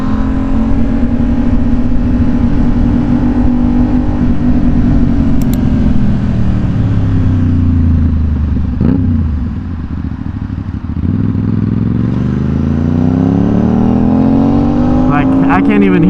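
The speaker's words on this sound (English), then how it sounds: "This bike be popping so loud" Loud Aprilia RSV4 Factory sport motorcycle exhaust rumbling and revving up close, with crackling pops toward the end, continuous and dominant throughout.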